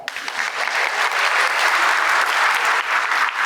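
Dense audience applause at a lecture hall talk, loud and even throughout, a continuous roar of many hands clapping with no voices over it.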